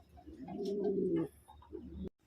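A homing racing pigeon back from a training flight gives a soft, throaty coo lasting about a second, followed by a shorter murmured call and a brief flap, close and alone in a quiet setting.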